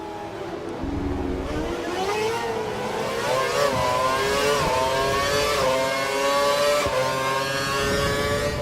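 A Formula One car engine from the F1 2012 video game screams at high pitch, rising and falling as gears shift across several revving sweeps, loud and continuous with no voices.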